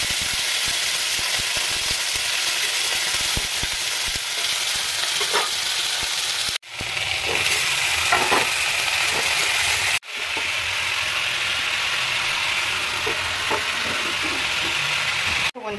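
Vegetable stems frying in a wok give a loud, continuous close-up sizzle, with stirring scrapes and a couple of abrupt breaks in the sound.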